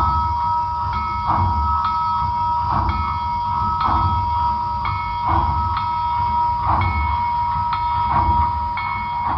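A Milwaukee Road HO model train locomotive runs steadily, a close mechanical hum and whine with a regular clicking pulse about once a second, alone without talk.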